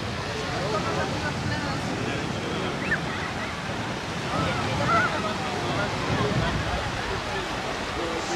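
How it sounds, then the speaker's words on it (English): Steady wind roars across the microphone alongside surf at a beach in Alcúdia, Mallorca, with a voice speaking faintly underneath. "So it's ever so windy."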